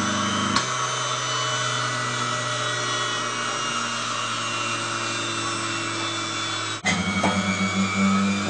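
A cream separator spins up and then hums smoothly and steadily at close range, with a continuous whirring drone and a brief clunk near the end. No one speaks.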